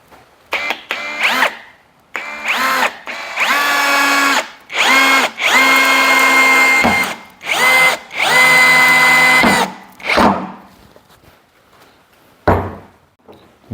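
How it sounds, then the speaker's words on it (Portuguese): A Nakasaki cordless screwdriver drives a screw into raw wood with no pilot hole, until the wood cracks. Loud, close bursts of whining motor start and stop repeatedly, separated by short pauses, with a final brief burst near the end. "a gente vai fazer um teste, ver quanto que ela consegue enfiar esse parafuso para dentro dessa madeira bruta aqui"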